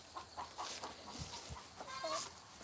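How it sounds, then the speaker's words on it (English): A chicken clucks in a series of short, separate clucks at a moderate distance, with a few sharper calls near the end and no talking. "I got a 2-minute video of the chicken gawking"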